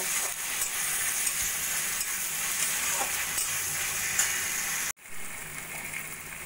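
Spices, Kashmiri chilli powder and half a lemon's juice are stirred for chilli paneer, giving a loud, steady sizzle with scraping strokes; it cuts out abruptly near the end, then resumes.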